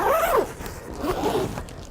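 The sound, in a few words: zipper on a sauna tent being zipped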